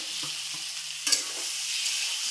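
Fried paneer cubes stirred into a pan of frying tomato and onion, a soft continuous sizzle with a brief scrape and clatter midway, close and moderately quiet with no voices.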